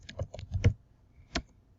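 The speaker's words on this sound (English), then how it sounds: "So you're going to type in your name." Someone types a name on a computer keyboard, with a quick run of about six close, crisp key taps followed by a pause and one last tap.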